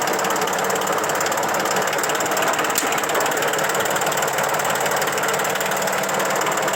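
A tractor engine runs at a steady idle close by, giving a continuous, loud mechanical drone with a faint knocking rhythm and no voices.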